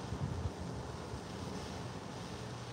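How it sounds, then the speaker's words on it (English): Steady wind blowing across the microphone at Ladies Bay, Guernsey, a constant rushing roar with a few heavier buffets at the start. "And it's windy."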